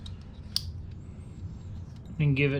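A fuel injector, unplugged and hooked to a small pigtail harness, clicks as it is pulsed by touching positive and negative leads. The clicks sit under steady talking, with a louder burst near the end.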